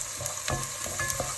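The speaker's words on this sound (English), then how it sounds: "So now I'm adding my garlic. If I can add my garlic. Yep, there we go. And we just stir it through." Garlic and onion sizzle in a hot pan as they are stirred, a steady frying hiss broken by several quick scraping strokes of the utensil, close and fairly quiet.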